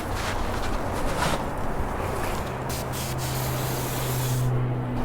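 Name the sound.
prep spray can spraying car headliner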